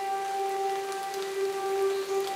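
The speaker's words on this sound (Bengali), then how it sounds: "এই শরতে কখনো আকাশ মেঘলা হয়, বৃষ্টি ঝরে অবিরত।" Steady rain falls during an autumn news segment, a continuous soft hiss with a faint tonal hum beneath it and no voices.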